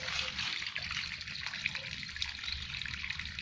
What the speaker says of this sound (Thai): แล้วปล่อยน้ำออกไปก่อน